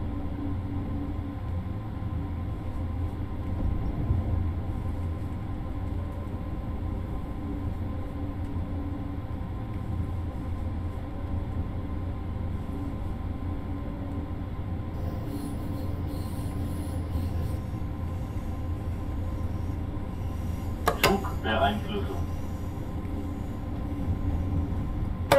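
An ICE Intercity Express BR403 in Train Sim World 3, on the Augsburg to München Hbf run, with a steady, droning rumble of the train underway. A few sharp metallic clicks and squeals break through near the end, and there is no talk.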